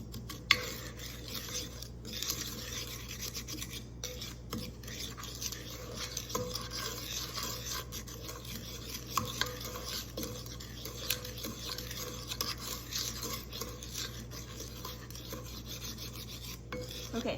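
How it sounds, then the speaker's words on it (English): A utensil stirs and rasps through dry lemonade powder, breaking up clumps with steady scraping and rubbing strokes, close and fairly quiet, continuing for many seconds with occasional small clicks. "I'm going to break up all the little clumps that have formed."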